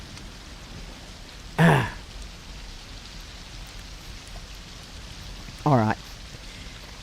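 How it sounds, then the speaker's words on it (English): Steady rain falls in the Fortnite video game, a soft continuous hiss under the scene, broken twice by brief bursts of a player's voice. "And it's bloody raining."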